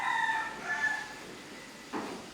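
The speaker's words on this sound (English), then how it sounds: "I've been up since about 3 o'clock because those roosters have been going since then." A rooster crows nearby in rural Thailand, a rising and falling call heard alone at moderate volume, followed by a short burst of another bird sound near the end.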